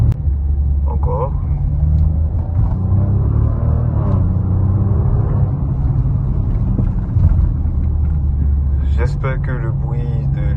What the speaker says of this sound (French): J'espère que le bruit de l'échappement s'entend.